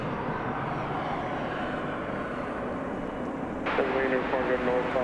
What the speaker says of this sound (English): Comes that Frontier plane we spoke of earlier.